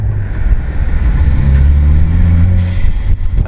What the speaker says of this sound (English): Blow-off valve is a lot louder than I expected.